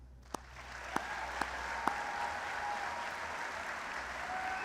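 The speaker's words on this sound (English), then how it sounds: "Let's give a nice round of applause" A crowd applauds at a high school sports awards event, giving steady, moderately distant clapping with a few sharp nearby claps near the start.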